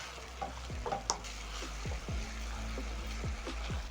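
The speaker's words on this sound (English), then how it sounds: "Stir in the sugar into the delicious minced meat." Minced meat stew with tomatoes sizzling in a pan while sugar is stirred in, soft scraping strokes over a steady low bubbling hiss, quiet and close.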